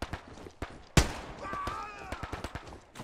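German weapon fire in the World War II shooter Hell Let Loose: one loud, sharp shot stands out among several lighter distant pops and cracks, with a voice speaking briefly under the shots.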